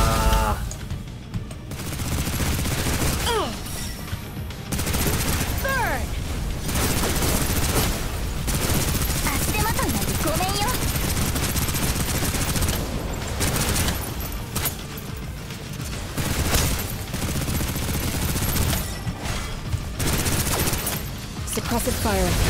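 Sustained suppressive gunfire in the video game Snowbreak rattles in dense, loud bursts through most of the stretch, briefly dropping off between volleys, with voices talking over the shooting.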